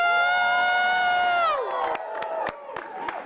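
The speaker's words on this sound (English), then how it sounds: "please raise your hands and scream because this is the best day of COP" A conference audience at a youth climate event screams, whoops and cheers loudly. A single high whoop runs over the crowd noise and then breaks into scattered yells and claps.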